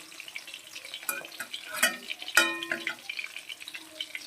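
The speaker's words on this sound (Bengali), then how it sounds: "কড়া করে ভাজবো এই মাছটা" Thesa fish frying crisp in a hot pan, with steady crackling sizzle and a few sharper spattering pops, close and continuous.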